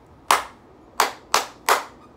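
One person claps a short rhythm, four sharp, close hand claps: a single clap, a pause, then three quicker ones evenly spaced, with quiet between them.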